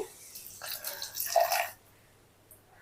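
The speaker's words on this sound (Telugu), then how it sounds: "కొద్ది వాటర్ కూడా వేద్దామండి" A short burst of water poured onto tamarind in a container, splashing for about a second, then quiet.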